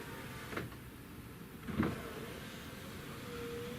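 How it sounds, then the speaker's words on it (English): Power window glass on a 2004 Lincoln Aviator with an inoperative auto window switch sliding down, two short motor whirs and clunks in a quiet car interior. "Automatic, glass down,"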